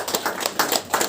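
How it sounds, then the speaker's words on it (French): A dinner audience at a restaurant awards event claps for the kitchen staff, giving a sparse, uneven patter of individual claps at close range rather than full applause. "Mais on va quand même essayer de les applaudir."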